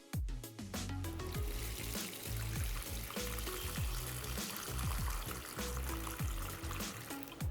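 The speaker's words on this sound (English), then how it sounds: "Now I'm gonna start the timer and start filling up the water." Water streams steadily into a container holding a Realme X phone during a waterproof test, a loud continuous pour with rising gurgles and splashes that never lets up.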